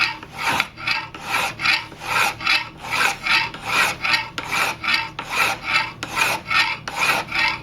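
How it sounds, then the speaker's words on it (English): Hand file rasping along a knife bevel held in a file jig, steady rhythmic back-and-forth strokes about twice per second, close and loud with no talking. "then I can move the file over to about here and blend it in with the rest of the"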